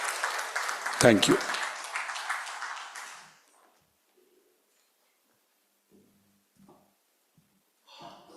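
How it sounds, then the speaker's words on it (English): Applause from a conference awards audience for the jury members lasts about three seconds and fades, followed by near silence and then a brief spoken thank you. "Please give Mr. Tyagarajan and all the jury members and Mr. Salil Kapoor a big round of applause."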